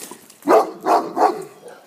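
A big dog gives three evenly spaced, moderately loud barks or woofs outdoors on a stroll, with faint background noise between them.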